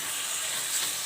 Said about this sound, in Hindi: कलेजी को मैंने बहुत अच्छी तरीके से भून लिया है